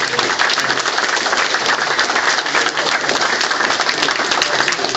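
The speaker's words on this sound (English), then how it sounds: "let's get another round of applause for former Governor Gary Johnson of New Mexico" Audience applauding former New Mexico Governor Gary Johnson, dense sustained clapping that stays loud and even throughout, close and continuous with no pause.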